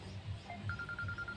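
A phone rings faintly in a room, a repeated electronic tone pulsing in a steady rhythm beneath low background noise.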